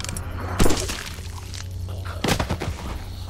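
Gunfire in The Walking Dead video game: two sharp, loud bursts of shots, one early and one near the end, standing out over a steady low game background.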